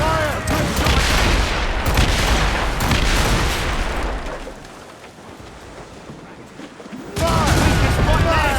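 Ship cannons firing during a naval battle in Assassin's Creed Rogue: heavy booming volleys that fade into a quieter lull, then surge loud again, with shouting voices mixed in.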